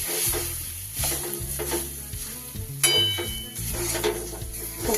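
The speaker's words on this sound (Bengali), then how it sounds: "খুব ভালো করে এইভাবে হালকা হাতে নেড়ে নেড়ে ডালটাকে একদম শুকিয়ে নেব" Lentil paste being stirred in a pan to dry it out, with a soft sizzle under repeated scraping strokes of a spoon against the metal, close and rhythmic, with no voices.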